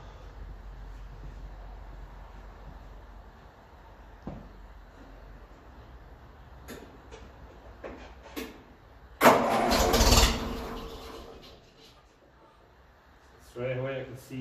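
A 1957 Ferguson 35 TVO tractor engine is cranked and caught, with a low steady rumble, a loud start burst partway through, then idling running, under occasional nearby talk.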